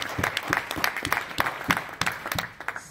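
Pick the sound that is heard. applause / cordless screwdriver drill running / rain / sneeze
applause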